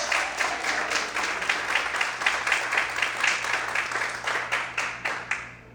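Church congregation clapping through a morning worship service, a sustained round of many hands at moderate loudness that thins out and ends in a few scattered claps.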